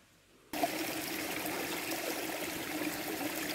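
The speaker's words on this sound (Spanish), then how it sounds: "Sonido de agua." A small stream in springtime countryside near Granada flows with a steady, close, broadband rush of water that starts abruptly and continues evenly without talk.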